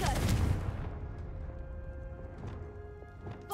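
A Confringo fire spell cast in Hogwarts Legacy, a loud booming blast at the start that decays into a rumbling tail, with faint clattering afterward.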